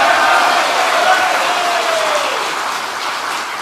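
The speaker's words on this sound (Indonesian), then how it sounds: "Tepuk tangan lagi." A crowd at a political speech applauds, a dense wash of clapping that starts loud and gradually tapers off, with faint voices mixed in.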